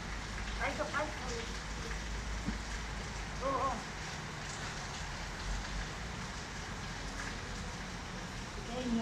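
Steady rain falls throughout, a continuous hiss of drops on surfaces with a few faint background noises mixed in.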